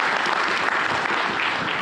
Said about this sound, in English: So do applaud the Finance Minister for that as well.